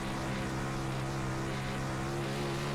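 A DIRTcar 360 sprint car's engine roars continuously onboard at Bristol Motor Speedway, a loud, steady droning tone held at high revs with no breaks.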